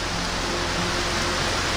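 Rain falling on an outdoor gathering, a dense, steady hiss of heavy rainfall that stays even and loud throughout, with no talk over it.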